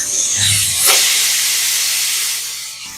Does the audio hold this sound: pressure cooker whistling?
yes